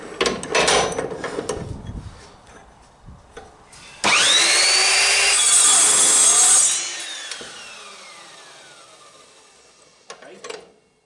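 Evolution Rage 4 saw slicing through heavy threaded rod of about 3/4 inch or 18 mm, with handling noise first, then a loud steady cutting whine lasting a few seconds that winds down as the blade slows.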